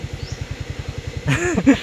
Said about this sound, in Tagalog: Yung motor namin, ako po, kinakabahan ako kung aakyat ba to.